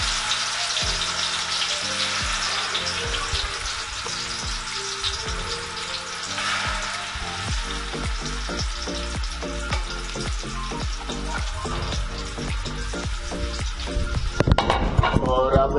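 Mutton pieces for Hyderabadi biryani slide into hot oil and fry, giving a constant loud sizzle and crackle with spattering pops that grows busier toward the end, no voices.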